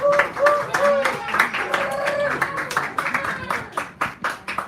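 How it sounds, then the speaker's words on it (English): A small cafe audience at an evening poetry reading in San Francisco claps, with scattered hand claps that build into quick applause while a voice talks over the opening. "give him a roaring round of applause"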